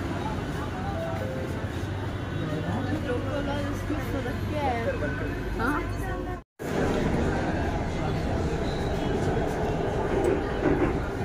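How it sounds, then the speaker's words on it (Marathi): A metro train rumbles steadily alongside a station platform as it arrives, with a sustained mechanical drone and a brief cut-out midway; voices can be heard nearby. "ट्रेन आलेली आहे आपली."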